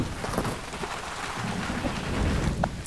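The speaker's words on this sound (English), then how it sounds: "I also want to acknowledge the rain and the thunder." Steady rain pours down alone, with rolling thunder rumbling low underneath throughout, loud and close.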